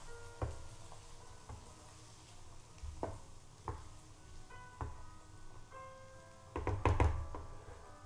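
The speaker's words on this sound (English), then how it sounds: "Give that a gentle stir." A spoon stirs beef sausages in a cooking pan over light sizzling, giving a series of close knocks and scrapes on the metal, irregularly spaced, with a louder cluster of clanks near the end and no talk.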